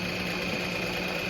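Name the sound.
Juki sewing machine sewing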